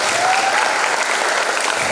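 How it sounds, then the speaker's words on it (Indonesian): Dense, sustained clapping from a lecture-hall audience at a public talk, loud and continuous with no pauses, a broad crowd of hands filling the whole stretch. "tepuk sebanyak-banyaknya"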